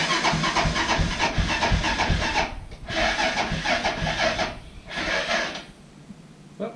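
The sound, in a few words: Honda 400ex ATV engine cranking and starting attempt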